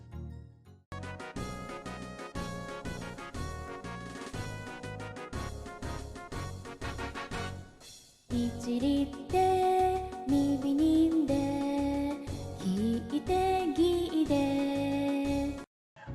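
A recorded Japanese song teaching the te-form, in a Totoro version, plays with rhythmic accompaniment and a melodic vocal line. It pauses briefly midway, then resumes fuller before ending abruptly.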